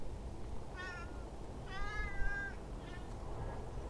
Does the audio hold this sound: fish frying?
no